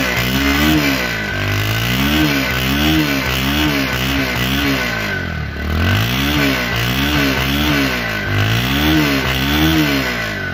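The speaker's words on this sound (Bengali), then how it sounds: "বাইকটির ইঞ্জিন সাউন্ড দেখতেছেন" A Bajaj Pulsar 150cc motorcycle in fresh condition with about 3997 km on it, its engine revving steadily and loudly up and down in repeated cycles, close by with no talking.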